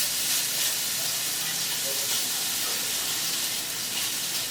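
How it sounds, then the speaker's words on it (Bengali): Potato and grated carrot fry in hot oil, giving a steady, bright, close hiss of sizzling that stays even throughout with no talking. "এবার আলু আর গাজর তেলের সাথে আমি 2-3 মিনিটের মতো ভেজে নিচ্ছি।"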